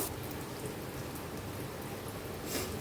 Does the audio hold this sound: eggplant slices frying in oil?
yes